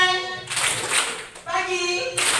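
A group plays a clapping game, with two bursts of brisk hand clapping separated by a short pause while voices chant over them, loud and close.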